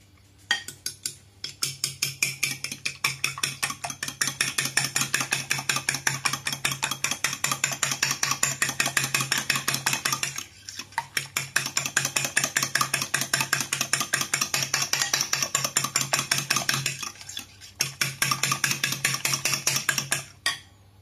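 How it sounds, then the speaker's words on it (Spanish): An egg with a pinch of salt is whisked in a bowl while making gluten-free maize cookies. A fast, steady clicking runs close and loud in long stretches, broken by a few brief pauses. "En primer lugar vamos a batir el huevo con un poquito de sal"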